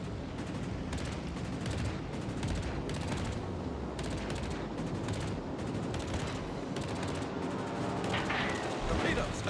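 Naval guns in the Kraken war game fire in a dense, continuous barrage on a designated target, with rapid overlapping booms and rattling bursts throughout, loud and close, while a voice talks over the gunfire.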